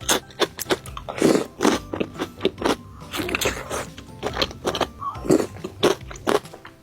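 Crisp crunching bites of pilus, a crunchy snack, eaten close to the mic, with repeated sharp crackling chews in an irregular rhythm and no talk.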